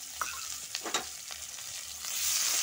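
Chopped onions sizzle and crackle in hot oil in a home kitchen, with soft stirring scrapes and a few louder pops, and the hiss swells toward the end.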